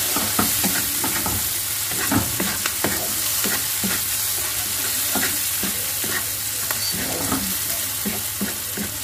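Shrimp and pork sautéing in hot oil give a steady, close sizzle. Sharp pops and spatters burst out through it while a utensil stirs and scrapes the pan.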